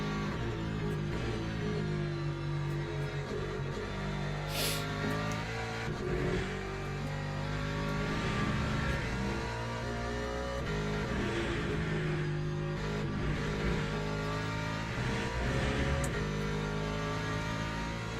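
A Ford race car engine in Le Mans Ultimate, a steady loud harmonic drone with rises and falls in revs throughout, heard alone without talk.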